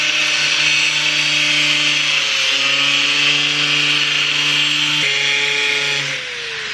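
A power tool cutting through the front bumper of a Lexus GX470 with peeling paint: a loud, continuous high-pitched grinding whine that holds steady for about six seconds, then stops abruptly, leaving a quieter hum.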